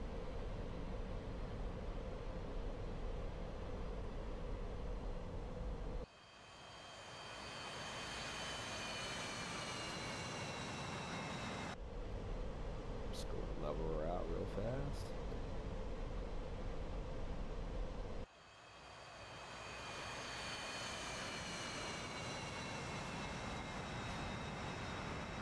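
The engines of an Su-30 jet carrying three missiles roar in the DCS flight simulator game as it hovers nose-up on thrust. A steady, loud turbine drone with high whine tones swells and drops back as the view cuts between angles.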